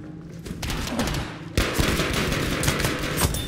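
Gunfire crackles in a Battlefield V match with dense, continuous volleys of rapid shots. The firing grows louder and heavier partway through, forming a busy layer of distant and nearby bursts.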